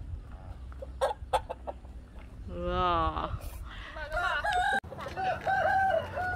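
A turkey gobbles in a rapid, warbling burst, with other fowl calls and a voice speaking nearby.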